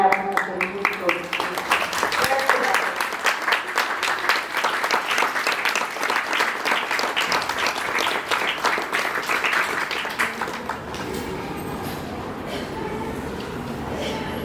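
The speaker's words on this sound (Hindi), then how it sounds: "माता जी के लिए ताली जोरदार।" An audience at a Sahaja Yoga Easter Puja gathering breaks into sustained applause after a poem recital, dense clapping that swells and then thins toward the end, with voices mixed in.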